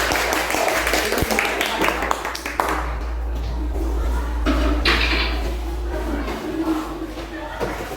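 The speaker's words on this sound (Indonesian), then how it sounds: "beri tepuk tangan untuk kelompok 4" Students in a classroom applaud a group of classmates, a dense patter of clapping over a steady electrical hum, easing into a softer, noisy murmur of the room.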